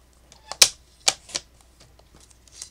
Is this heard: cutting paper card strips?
yes